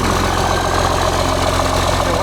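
A Cummins 6BT marine diesel, fitted to Thrustmaster marine drives, cranks and runs with a loud, steady low throb and a rhythmic pulsing beat throughout, close up.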